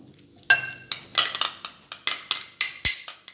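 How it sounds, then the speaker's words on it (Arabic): Utensils clink and scrape against a dish while tuna is stirred into a quiche filling, a run of close, repeated chinks and taps in an irregular rhythm with no talking. "حنا كنخلطوا نزيدو الطون"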